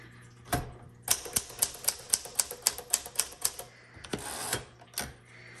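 Keys strike one after another on a 1960 Sterling manual typewriter, about a dozen crisp evenly spaced clacks near the mic, then a longer mechanical rattle and one final strike.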